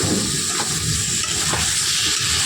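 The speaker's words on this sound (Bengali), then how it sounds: "এই যে দেখো টমেটো ভাজার সঙ্গে দিয়ে দিলাম" Tomatoes go into a pan of frying fish with onion and green chilli, giving a loud, continuous sizzle with bursts of hiss as the mix is stirred.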